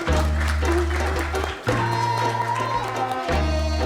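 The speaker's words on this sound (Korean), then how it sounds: "박수 부탁드립니다." An audience applauds during the award presentation at a debate competition final, with clapping running under a loud steady musical tone that briefly cuts out, and no clear speech.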